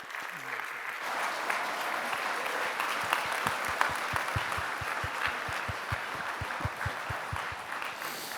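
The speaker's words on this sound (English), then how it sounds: "Big applause for Mark Solms" An audience at a scientific conference plenary in Interlaken applauds after a lecture, a dense sustained wash of clapping with some rhythmic unison claps emerging, heard alone for several seconds.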